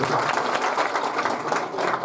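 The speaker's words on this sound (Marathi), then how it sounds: "त्यांच्यासाठी जोरदार एकदा टाळ्या वाजवा" A crowd claps loudly and steadily at a dawn temple ceremony, a dense burst of applause lasting a couple of seconds.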